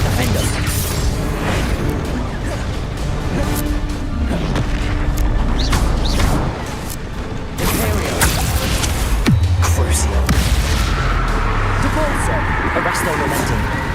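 Confringo fire spell explosions from the Hogwarts Legacy video game, loud booming blasts and mechanical crashes layered over continuous game noise while a player shouts over them.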